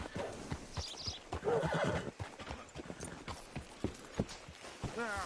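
A horse in the video game Red Dead Redemption 2 whinnies and snorts near a hitching post, hooves clip-clopping between calls, with game speech and ambient sounds around it.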